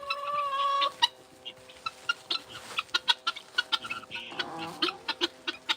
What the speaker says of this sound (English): Look, now the chickens are coming out here.